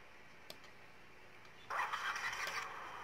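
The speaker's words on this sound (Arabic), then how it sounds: "فوالا العربه ديمارات" A car engine starts after its diagnostic fault codes are cleared: faint clicks first, then the engine fires at about 1.7 seconds and settles into a steady running hum, fairly quiet and alone.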